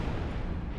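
A missile explodes in the Armored Core VI video game: a brief, dense, booming roar that stays loud and heavy for under a second, with no talk.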